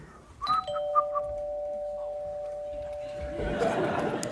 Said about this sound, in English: I'll be providing the noise, the doorbell noise, as they arrive